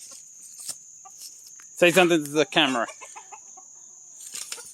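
Chickens cluck softly and intermittently on a farm over a steady high-pitched background tone, while a person speaks briefly in the middle.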